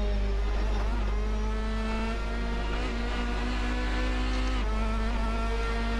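A race car engine drones loudly and continuously from inside the car, then falls in pitch as the driver lifts off the throttle, and climbs back as the power returns.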